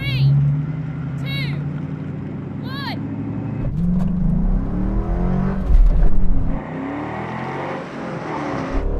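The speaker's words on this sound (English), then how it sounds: "what we're going to do now is a first gear roll in, the start will start us, and we'll race to the quarter mile." Ford Mustangs, first through seventh generation, roar as they accelerate from a first-gear roll-in in a quarter-mile drag race, with engines building loudly under excited talk and a countdown.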